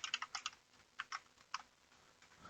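Fingers type on a computer keyboard in quick bursts of close, crisp clicks, a rapid cluster at the start and then a few spaced keystrokes, with no one talking.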